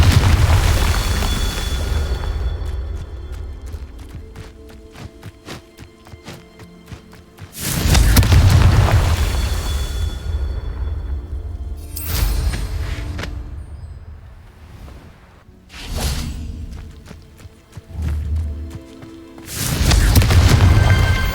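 Confringo spell explosions burst from a dark manor area during Merlin trials in a video game, several loud booming blasts spaced across the stretch with rumbling tails between them.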